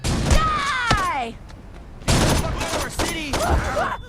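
A pipe bomb detonating in the video game Saints Row 2, sharp blasts and thuds mixed with game sounds and overlapping voices, loud and close.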